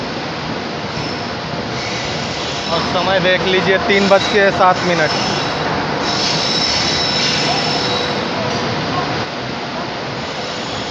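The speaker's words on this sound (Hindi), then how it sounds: "अपनी ट्रेन आई है चंडीगढ़ के प्लेटफॉर्म नंबर 3 पे।" Ekta Express passenger train pulling into platform 3 at Chandigarh station on its first inaugural run, wheels squealing loudly and rail noise rumbling steadily throughout, with someone speaking over it.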